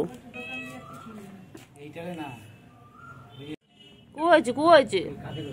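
A pet cat meows close by, a few drawn-out calls with a louder run of meows near the end, mixed with a person talking to it.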